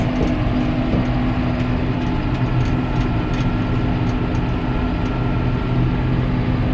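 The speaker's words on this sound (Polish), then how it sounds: "Ciągnik utrzymuje tę samą prędkość." A 2009 John Deere 6930 Premium tractor engine drones loud and steady at constant road speed, a continuous low rumble with a faint cab hum and no talking.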